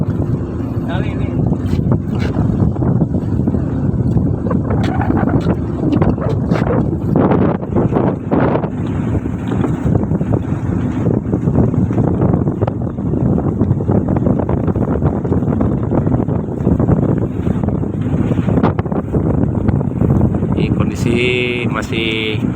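A boat's engine drones steadily as it moves along during a lobster seed fishing survey, with wind buffeting and water rushing throughout and a voice occasionally heard under the noise.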